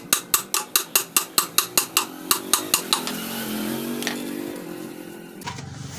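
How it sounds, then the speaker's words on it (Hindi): A light hammer tapping rapidly on the clutch plate of a 2 HP motor: a dozen or so evenly spaced metallic taps, close and loud, followed by quieter scraping and handling of the metal. "अब हम हथौड़ी से इसको हल्का हल्का ठोकेंगे"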